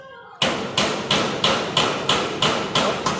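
Steady hammer pounding, eight evenly spaced loud blows in quick rhythm, close by, after a brief voice at the start.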